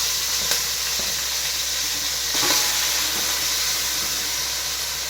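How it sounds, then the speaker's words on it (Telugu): Tomato pieces, onion and green chilli frying in hot oil for a Hyderabad-style chicken dum biryani, a steady close hiss and sizzle with a couple of faint stirring knocks. "ఆయిల్ హీట్ అయిన తర్వాత టమాటా ముక్కలు, ఉల్లిపాయ,"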